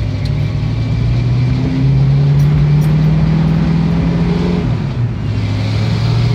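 A Ford Maverick with a T5 gearbox, being tested for a misfire, revs hard with a loud, steady engine roar that climbs in pitch, dips briefly, then pulls again, with no voices over it.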